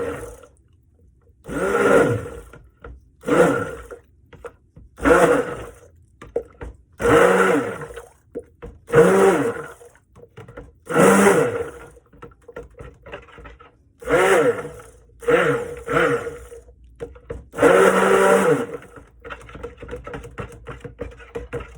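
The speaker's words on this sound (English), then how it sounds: "I'm going to get my stick blender out and chop up some of those big pieces." A stick blender whirs in repeated short pulses, about a dozen bursts with pauses between, as it chops and mixes pine tar cold process soap batter, loud and close with no talking.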